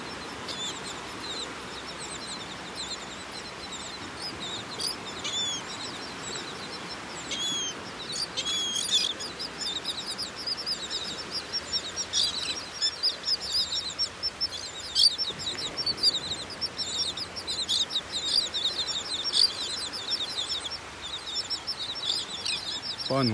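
Terns, with a few gulls and small sandpipers, call on a sandbar beach in North Naples, Florida: a dense, continuous chorus of high chirps and cries, moderately near, growing busier partway through, with no talk.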